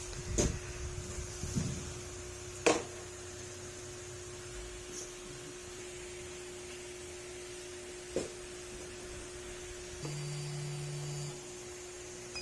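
A car's fuel pump drones with a faint, steady electric hum throughout, with a few soft clicks and a short buzzing whir near the end, on a car that is hard to start.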